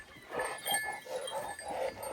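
A young female puppy whines while chained for the first time, giving repeated short, high, nasal whimpers in a quick uneven series, fairly close and with no talk over them.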